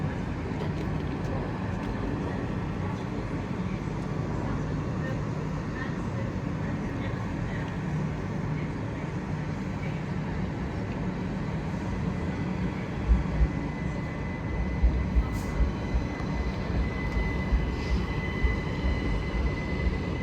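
A Class 377 electric multiple unit, 377621, pulls out of Clapham Junction bound for London Victoria, giving a steady, moderately loud rumble and hum of rolling stock that builds slightly near the end.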